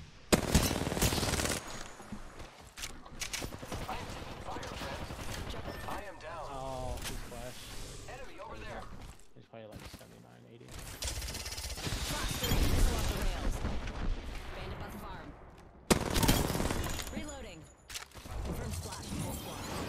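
Gunfire in the Apex Legends video game, with bursts of weapon fire and impacts in a busy battle mix while players talk over it.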